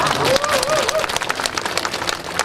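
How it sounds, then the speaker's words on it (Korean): Crowd applause at the opening ceremony of the Pyeongtaek–Siheung section of the Second West Coast Expressway, a dense burst of clapping that starts under a speaker's fading voice and continues strongly. "큰 박수 한번 더 보내주시면 됩니다"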